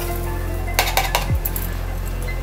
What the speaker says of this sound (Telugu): ఇప్పుడు మిక్సీ జార్లో వేస్తున్నాను.